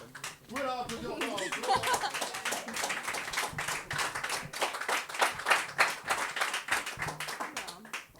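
An audience at a slam poetry night in a small venue gives a steady round of applause, dense clapping that rises and falls over several seconds, with some voices and laughter mixed in.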